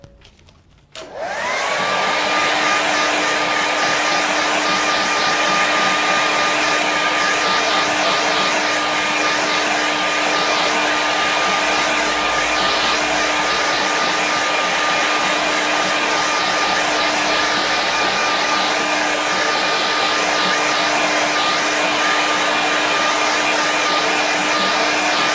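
A hair dryer clicks on after a brief pause and then blows wet paint dry. Its loud, steady whine and rushing airflow run close and unbroken to the end.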